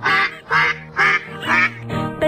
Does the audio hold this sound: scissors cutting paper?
no